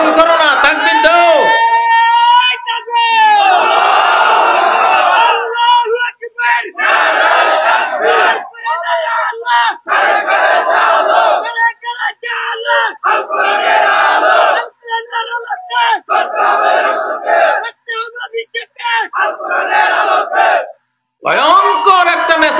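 A large crowd at an Islamic religious sermon roars the takbir chant in loud, repeated collective bursts, each swell separated by short pauses, with a voice leading between the responses.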